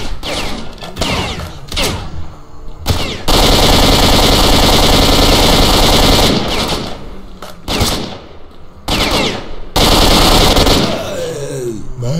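Sustained automatic gunfire from a machine gun in the shooter game S.T.A.L.K.E.R.: Shadow of Chernobyl, loud, dense rattling bursts broken by short pauses, with game effects between volleys.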